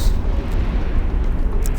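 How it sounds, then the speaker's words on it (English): Explosions in the space game Eve Online: a dense, continuous low rumbling roar of blasts, loud and sustained, without clear separate bangs. "complete a mission, and watch all the explosions"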